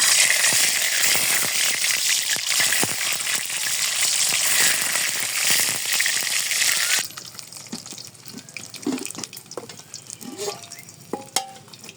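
Eggs fry in hot oil with a loud, steady crackling sizzle for about seven seconds, then drop to quieter, intermittent popping and spatter with scattered small clinks, and no one speaks.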